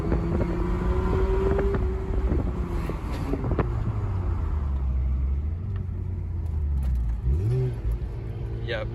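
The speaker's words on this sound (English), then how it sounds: "That's the downshift." Mazda RX-8 rotary engine pulling hard under wind rush, its pitch sliding down and climbing again, then dropping sharply in a downshift near the end, with people talking over the cabin noise.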